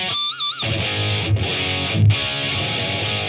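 An electric guitar plays through an EVH 5150 6L6 50W amp with the effects loop off, a distorted tone with a sustained high note, then heavy chugging chords.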